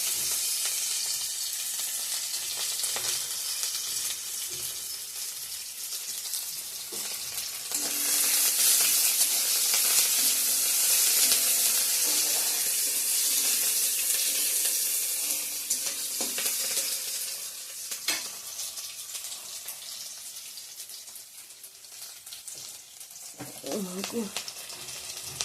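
Onions, dried chilli and bay leaf fry in hot oil for an egg curry, a steady close sizzle that swells loudest in the middle, with stirring and a voice speaking briefly near the end.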